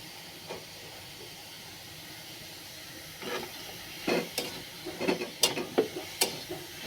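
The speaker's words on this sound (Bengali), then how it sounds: "ভালোভাবে নেড়ে নেব" Mutton and onions stirred with salt in a pan give a quiet background sizzle, then a run of sharp scraping and clinking strokes in the second half, with no voices.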